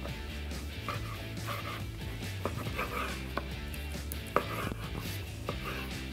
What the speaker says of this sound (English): Some nice Canadian bacon right there. Let's get some slices.